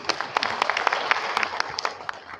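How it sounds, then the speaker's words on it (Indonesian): A small audience of civil servants claps briefly, scattered individual claps at moderate distance, faint and short with no talk over it. "Tepuk tangan dong."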